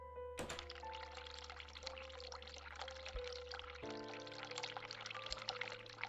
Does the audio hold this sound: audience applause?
no